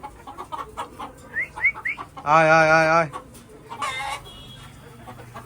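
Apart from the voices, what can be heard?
chickens clucking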